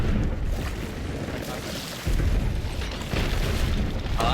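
Cannons fire in the pirate ship game Sea of Thieves, heavy booming blasts rolling into a continuous loud rumble of surf and wind aboard the boat, with voices chattering faintly underneath.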